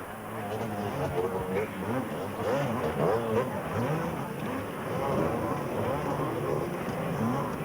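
Cagiva motocross bike racing in the 1987 250cc World Motocross event at Hawkstone, engine droning and wavering steadily at middle distance, with a commentator talking continuously over it.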